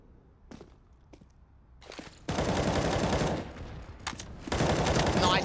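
In a CS:GO pro match on the Overpass map, an HE grenade goes off with a sudden loud blast among gunfire, followed by sustained booming noise and a second burst.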